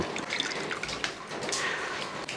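Juice of crushed cardamom, ginger and grapes is strained for a lemon summer drink, giving a continuous close trickle and splash of liquid with light dripping.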